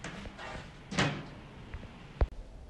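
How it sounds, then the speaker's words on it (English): A hinged panel door on an RT 7600 3-part hematology analyzer swings shut, giving a soft shuffling sweep and then a sharp, close latching click near the end, with faint background noise and no talking. "Okay, then you can close this door."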